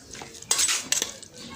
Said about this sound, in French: Voilà, elle remue bien